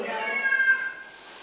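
A single drawn-out cat meow, close and clear, rising then trailing off.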